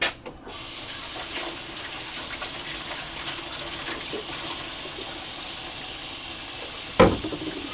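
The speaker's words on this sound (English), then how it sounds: "So then I'm gonna wash my hands." Hands are washed under a running kitchen tap: a steady, even hiss of flowing water continues throughout, ending with a brief louder splash or clunk near the end.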